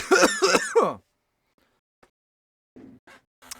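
A person coughs hard several times right after a shot of vodka, a loud burst of harsh throat-clearing coughs, then silence and a few faint, brief sounds.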